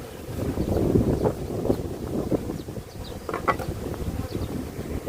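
Wind gusting across an outdoor beekeeping site with square-box comb honey hives, a steady low rumble of buffeting and microphone wind noise throughout, with no talk.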